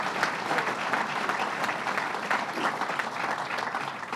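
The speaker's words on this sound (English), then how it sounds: "Let's give him a round of applause, Dr. Zucker." An audience at a governor's announcement for a therapeutics research center opening claps steadily, a dense, even round of applause that holds at the same loudness throughout.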